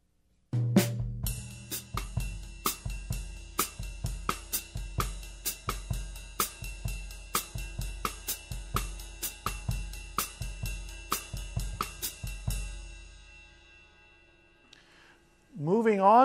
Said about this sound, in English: So a common bossa nova will sound like this.